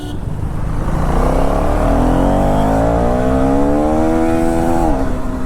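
A motorcycle accelerates hard during a street race among a Duke 390, RR310 and Duke 250, its engine note climbing steadily through the revs, loud and close, with no talk.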